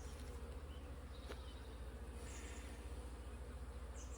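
Steady, close swarm drone of agitated honeybees at an open hive during inspection, continuous and even, with occasional higher-pitched whines from single bees darting past.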